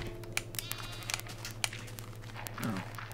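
A few short sheep bleats in Minecraft, soft and spaced out over a steady low hum, with a handful of sharp clicks and small footstep-like sounds in between.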